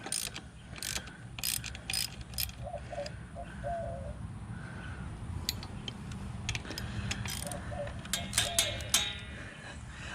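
A hand ratchet works a tight bolt on a Yamaha WR250R motorcycle, giving repeated close clicking and ratcheting bursts over a low background rumble, with sharper metallic clicks near the end.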